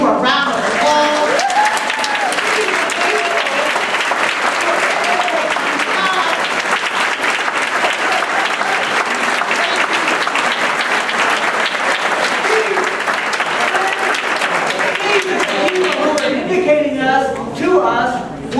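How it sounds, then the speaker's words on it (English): Sustained audience applause at a political speaking event in Asheville, steady and dense throughout, with cheering voices rising near the end. "would you please stand up for a moment so that we can give you a round of applause?"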